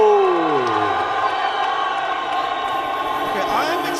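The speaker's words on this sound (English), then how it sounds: "Round of applause for Elvis Moyo!" Crowd at a heavyweight boxing title bout in Harare, Zimbabwe cheering for a fighter's entrance, a loud sustained roar with whoops and tonal voices throughout.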